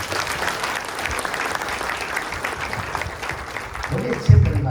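An audience at a spiritual gathering claps in sustained, steady applause that lasts several seconds.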